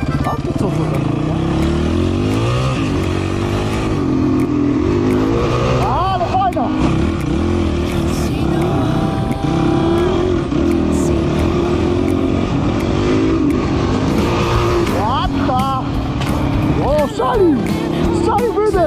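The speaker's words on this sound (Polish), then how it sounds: "Strzalił wydech!" A Honda 150 motorcycle engine revs repeatedly in loud, rising and falling bursts close by, with its exhaust popping and backfiring as the throttle closes, continuous throughout with no pause.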